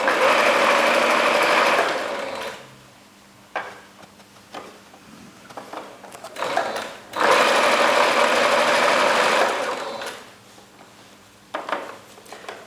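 An industrial sewing machine stitches the leg seam of a swimsuit in two long bursts of rapid whirring, separated by short stops, scattered clicks and fabric handling, close and clear.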